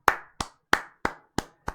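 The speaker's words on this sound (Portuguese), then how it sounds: "Batam palmas pro Tifão." Six sharp, separate hand claps in a slightly uneven rhythm, each ringing briefly, close and loud with no other sound.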